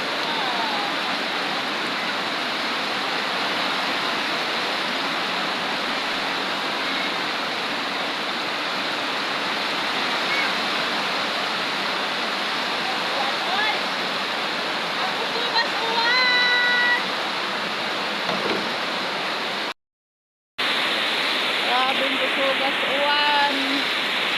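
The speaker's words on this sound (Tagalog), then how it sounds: "Inabot talaga ako ng ulan. Kaya nagsisilong na lang ako." Heavy rain pours steadily outdoors near rice paddies, a dense continuous wash of noise that stays loud throughout, with a brief cut near the end and a voice talking faintly beneath it.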